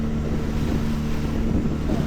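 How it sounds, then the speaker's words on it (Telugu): A yellow boat speeds across the sea off a beach, its engine a steady low roar mixed with wind buffeting the microphone and rushing water, continuous and loud with no talk. "ఆ ఎల్లో బోట్ అయితే క్రేజీ వేసుకుంటుంది."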